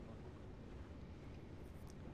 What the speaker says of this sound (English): Our own propellers are quite loud, mind you.